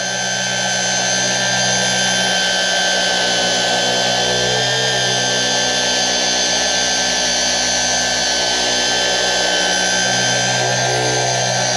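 A rotary polishing machine working out scratches on the trunk lid of an S550 Ford Mustang, running as a loud, constant whirring drone throughout with no pauses.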